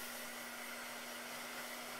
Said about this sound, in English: with the blow dryer.